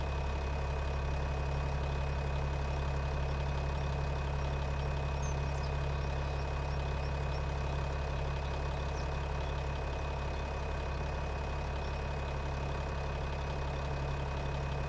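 Heavy engine exhaust idles in a sawmill challenge video game, a steady low rumble with a constant hum, unchanging and close for the whole stretch, with no voices.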